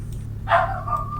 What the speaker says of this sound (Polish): Sorki, mój piesek.